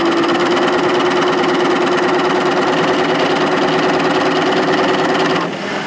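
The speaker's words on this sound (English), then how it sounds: "So you're just sewing the pocket bags together." A sewing machine stitches pocket bags together in a steady, loud, rapid mechanical hum and clatter that runs continuously before stopping abruptly near the end.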